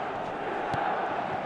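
Stadium crowd in an eFootball match sends up a steady, dense roar that swells briefly midway, sensing a comeback after a headed goal.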